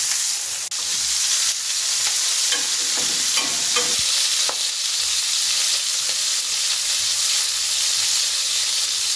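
Bacon, wrapped around shrimp, fries in a pan with thyme, giving a loud, constant crackling sizzle up close, with a few spatula scrapes and pops early on.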